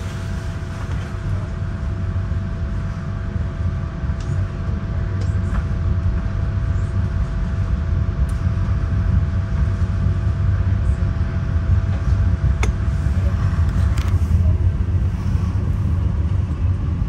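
Metra commuter train 1277 runs express from Chicago Union Station toward LaGrange, Illinois, heard from on board as a steady, loud, continuous rumble with faint rail clicks and no voices.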